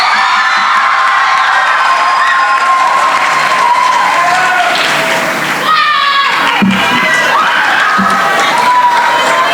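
A graduation audience at an Islamic school ceremony breaks into loud, sustained applause mixed with cheering, whoops and children's shouts, the crowd noise filling the room steadily throughout with no pause.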